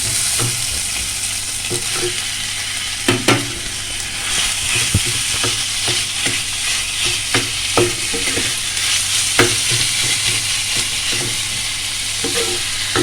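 Chicken with ginger sizzles in a frying pan, a loud continuous hiss broken by repeated scraping stirs of a spatula, close up and with no voices.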